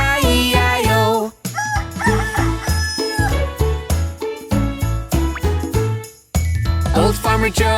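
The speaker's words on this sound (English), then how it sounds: "And on his farm he had a rooster" A cartoon rooster crows within a children's farm nursery rhyme, its call ringing over bright, bouncy instrumental music with chimes and a steady beat.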